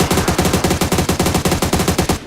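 Automatic gunfire in a video game: one continuous, loud burst of rapid, evenly spaced shots lasting about two seconds, close and alone without talk.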